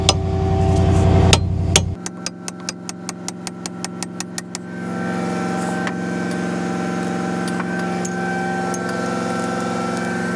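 A hammer knocks a pin out of a hydraulic cylinder on a row crop tractor, a dozen or so evenly spaced sharp metallic blows over a steady engine idle that swells louder partway through.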